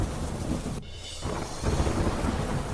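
A heavy downpour in Daman pours down with thunder, a dense, loud wash of rain noise that briefly drops out before surging back.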